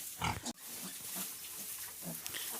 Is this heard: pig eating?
yes